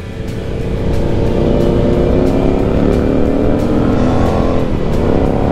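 Voge 525 ACX motorcycle engine under way on a mountain road, a steady loud drone that builds slightly in the first second and then holds, with wind rush over it and a brief dip near the end.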